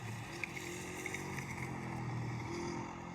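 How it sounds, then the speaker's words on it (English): A motorcycle ridden past outside, a faint, steady engine drone in the background with no talk over it. "That's my brother on his motorcycle."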